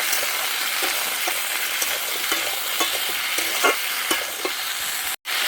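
Steady sizzle of salted vegetables frying, with a spatula scraping and stirring at irregular intervals, up close, ending in a brief silence.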